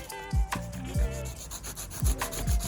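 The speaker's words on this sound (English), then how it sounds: "Feels a little crazy to sand your table saw" Sandpaper rubbed by hand across the top of a table saw in a woodworking shop: steady scratchy strokes broken by a few soft thumps, close and fairly quiet, with no talking.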